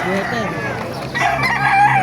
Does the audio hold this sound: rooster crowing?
yes